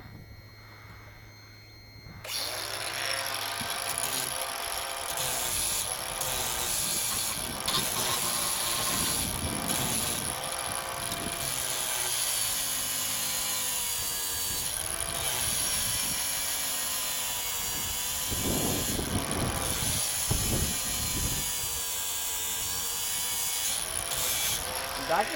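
A disc sander grinds steadily on a boat's fittings, a loud continuous rasping whine that holds for over twenty seconds after a short quiet start, with faint voices underneath.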